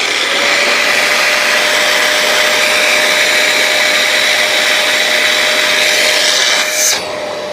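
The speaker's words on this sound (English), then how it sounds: "Simply put this on, turn it back on, and we're going to pull the trigger." A BISSELL Little Green mini carpet spot cleaner runs with its hose tool attached, a loud, steady motor and suction whir that holds unbroken for about seven seconds before cutting off abruptly at the end.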